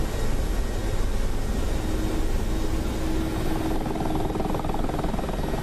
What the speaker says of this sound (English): Listen to the wind noise again, all that noise, aerodynamic noise increasing.